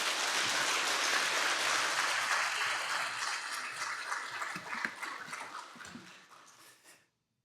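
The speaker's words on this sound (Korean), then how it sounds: "마지막까지 박수로 변함없이 격려해 주셔서 감사합니다" Church congregation applauding a visiting pastor, a dense broadband wash of clapping that starts full and steady, then thins and fades out toward the end.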